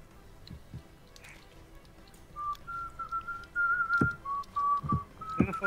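A person whistles a few sustained tonal notes during an online GoldenEye: Source match on the Cradle map, with scattered game clicks and thuds underneath, fairly close and moderately loud.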